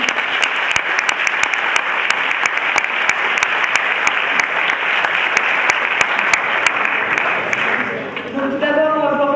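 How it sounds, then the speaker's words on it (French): Conference attendees at a round-table session applaud the speakers with sustained, fairly loud clapping from a mid-sized crowd, fading near the end as a voice begins talking. "on va pouvoir applaudir Aline et Herminet pour cette conférence"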